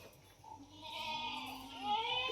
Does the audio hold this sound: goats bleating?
yes